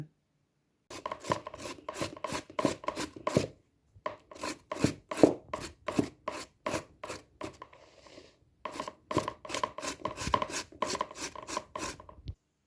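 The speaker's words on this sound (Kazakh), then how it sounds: "Мен картоптың бәрін осылай өткізіп алдым." Raw potatoes rubbed over a hand grater make rapid, evenly spaced rasping strokes in three close bursts, with brief pauses between the runs and no voices.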